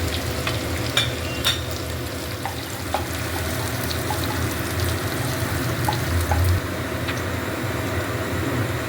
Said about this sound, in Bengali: পেঁয়াজগুলো ভালো করে ভাজার পর